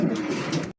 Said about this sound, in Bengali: দেখতে পাচ্ছেন এখানে একজোড়া ইন্দোনেশিয়ান এক্সিবিশন কবুতর